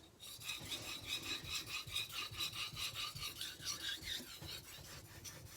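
A kitchen knife is stroked repeatedly across a sharpening stone to refine 400-grit diamond scratches, giving rhythmic back-and-forth rasping scrapes, about two per second, close and fairly quiet.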